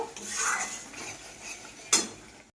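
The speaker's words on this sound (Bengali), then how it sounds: "মশলাটা আমি ভালো করে কষিয়ে নেব।" Spice paste (masala) for a pabda fish curry is stirred and fried in a pan, with a spatula scraping the pan steadily, a soft sizzle beneath it, and one sharp clink of metal near the end.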